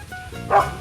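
A dog gives a single short bark, close and fairly loud, standing out briefly against a quiet background.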